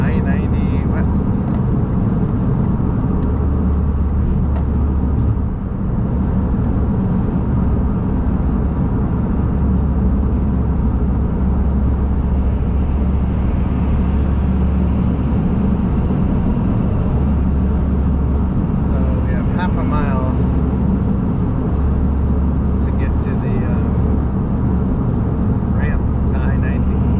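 Steady interior road drone of a Smart car cruising on a highway (I-405 north toward I-90 near Mercer Island, Washington), with a constant low engine and tire rumble and occasional brief rattles throughout.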